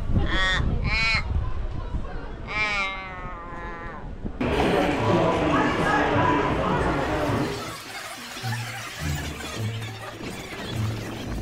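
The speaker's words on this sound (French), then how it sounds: "c'est un corbeau croisé avec une chèvre" A bird in Australia gives loud, harsh, bleating calls, several strained wavering cries in quick succession, followed by a noisy jumble of rustling, clatter and murmuring voices, with low tonal humming near the end.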